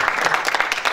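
Audience members at a Chungbuk National University presidential candidate policy debate applaud, a short burst of scattered clapping that fades out within a second.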